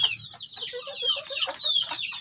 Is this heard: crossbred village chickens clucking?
yes